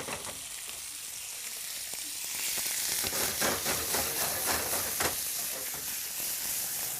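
Pieces of chicken frying in olive oil in a pan for chicken crepes, a steady close sizzle that swells louder partway through as they are spooned in, with crackling pops and no talking.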